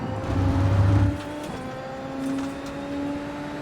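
A Super Formula single-seater's engine in iRacing at Road America holds a steady high-revving drone while exiting a corner, then eases slightly and builds again, loud and continuous with no talking.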